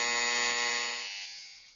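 Loud electronic game show buzzer on a televised Odia quiz contest, one sustained harsh tone that holds steady and then fades out, heard alone with no talk.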